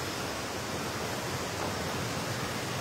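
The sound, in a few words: Cascade des Combes waterfall, Saint-Claude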